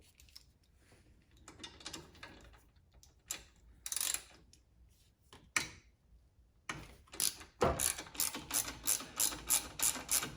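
A ratchet works a lock bolt on the pulley of a 2005-2009 Subaru Legacy during a steering pump replacement, giving scattered clicks at first, then a fast, steady run of close, crisp ratcheting ticks.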